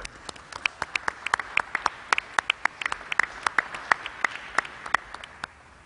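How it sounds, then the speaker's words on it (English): Scattered applause from a small audience at a COVID-19 briefing, sparse individual claps with a thin murmur under them, continuing for about six seconds. "Let's give New Yorkers a round of applause."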